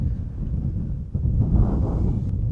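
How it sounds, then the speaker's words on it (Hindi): Strong wind buffets the microphone on top of a tower at a gold rush rail site, a steady low rumble that swells louder in gusts partway through, with no voices. "काफ़ी तेज़ हवा चल रही है यहाँ पे।"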